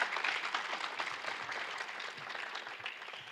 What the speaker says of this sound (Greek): Ένα χειροκρότημα, παρακαλώ.